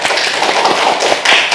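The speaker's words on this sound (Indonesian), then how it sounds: "beri tepuk tangan untuk kita semua" Students in a classroom give a short burst of applause, a dense patter of close hand claps with a few sharper taps, loud and unbroken.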